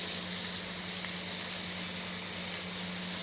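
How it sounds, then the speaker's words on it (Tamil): Steady, dense sizzling of onion and tomato sautéing in a hot pan, a constant hiss with no talking. "எல்லாத்தையும் ஒன்றாவே போட்டு வதக்கிக்கலாம்."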